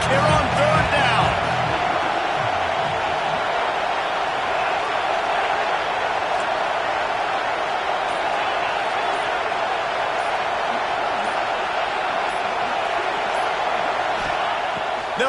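A dense, steady roar from the Auburn football stadium crowd cheering on third down fills the background, with a commentator talking over it throughout.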